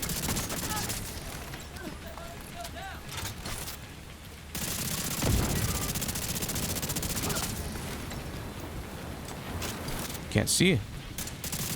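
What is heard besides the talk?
gunfire from video game The Division 2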